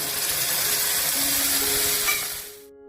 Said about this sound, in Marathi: ह्यातली मोहरी ही छान खमंग अशी तडतडून द्यायची